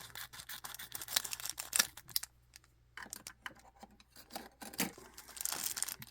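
A plastic package gets cut open with a few sharp snips and crinkling rustles, close up, pausing briefly midway before more crackling plastic handling; no voices.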